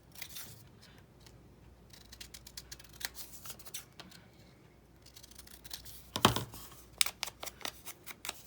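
Scissors snip paper for a junk journal at close range, a run of quiet, crisp cuts and rustles, followed by one louder, drawn-out slice and a few more short snips.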